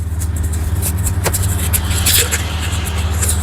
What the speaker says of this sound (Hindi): अब इसको चालू करके देखते हैं कितना आवाज़ है इसमें।